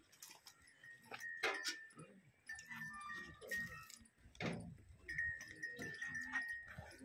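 Farm animal sounds from a Cholistani cross cow at a farm, with several short calls and bell-like tones scattered over about seven seconds. No one speaks.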